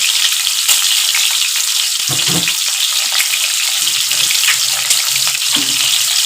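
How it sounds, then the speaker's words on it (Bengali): An egg fries in a pan with a little turmeric, giving a loud, continuous close-up sizzle with faint scraping and stirring noises underneath. "প্রথমে আমি ডিমটাকে একটু ভেজে নিচ্ছি হালকা একটু হলুদ দিয়ে"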